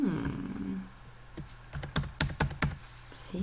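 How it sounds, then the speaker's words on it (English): Several sharp computer mouse clicks arrive in quick succession, some spaced close together like double clicks, fairly close and clear over a quiet room hum with no talking. "I'm going to have to double click on that and choose title"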